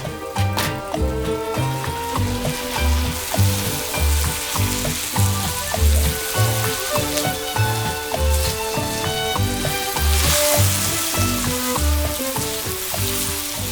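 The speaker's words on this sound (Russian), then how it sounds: "Пора лук открывать, перемешивать." Onions fry in oil in a pan with a loud, steady sizzle, while a utensil stirs and scrapes in a regular rhythm, close up and with no talking.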